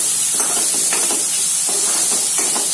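Salted besan and capsicum sautéing in a pan, a steady hiss with soft intermittent scraping strokes as the mixture is stirred, close and even throughout.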